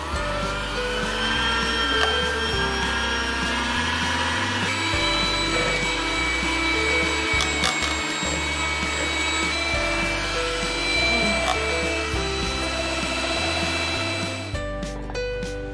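An electric mixer beats pancake batter of milk at high speed, a loud, steady whirring drone with shifting low pitch as the beaters work. The whir cuts off abruptly near the end.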